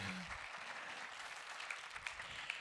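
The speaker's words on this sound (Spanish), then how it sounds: "Un fuerte aplauso para nuestro equipo de Nuevos Comienzos, por favor." Faint, steady applause from a church congregation honoring a ministry team, a soft continuous patter of clapping with a few sharper claps near the end.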